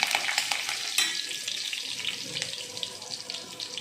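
Curry leaves dropped into hot oil for a peanut and potato khichdi burst into a sharp crackling sizzle that starts loud and settles into a steady, close hiss with scattered spits.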